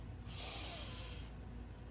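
A single deep, airy inhale during a quiet yoga practice, a soft breath lasting about a second, close and alone with no talking.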